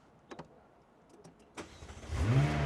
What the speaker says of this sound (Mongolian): За асааж үзэхийн тулд тоором загшгээд энэ том улаан тавчийг дарддаг.